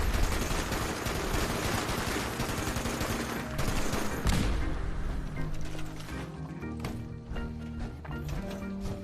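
Sustained, rapid gunfire in the video game Fallout 76, loud shots cracking in fast, dense bursts that thin out toward the end over the game's background sound.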